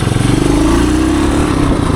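A 1978 Suzuki DR370 motorcycle engine runs loud and close while riding, a steady throbbing drone with a faint rise in pitch, no voices over it.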